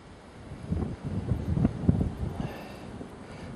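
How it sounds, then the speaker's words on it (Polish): Gusty wind buffets the microphone in low, rumbling bursts that swell and fade, loud and close, with no other clear sounds. "Trochę jest zbyt silny wiatr"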